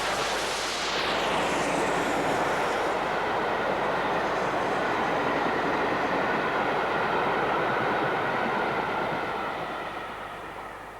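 Steady, loud rumbling roar from an LMS steam locomotive running, with no distinct chuffs; a passing train swells and then holds a continuous wash of noise, with no voices.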